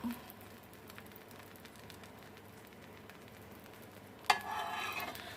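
An omelette frying in a pan as oil is poured around its edges, with a soft, steady sizzle that bursts into a sharper, louder crackle near the end.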